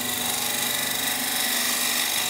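A 5/8 bowl gouge takes a light finishing cut on wood spinning on a lathe, shaving off fine dust. The result is a steady, even hiss of noise with a faint motor hum underneath, close and continuous, with no talk.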